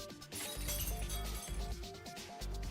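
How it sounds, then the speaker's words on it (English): Glass shatters in the visual novel Fate/stay night: a bright crash with scattered tinkling debris, set against loud, continuous dramatic background music. "The sound of glass breaking."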